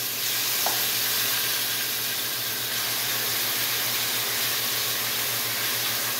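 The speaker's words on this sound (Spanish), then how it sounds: "Me encanta cuando mi olla o mi caldera hacen ese ruido" Steady sizzling hiss with a low rumbling bubble from a pot of ribs stewing on the stove, continuous and fairly loud throughout with no talk.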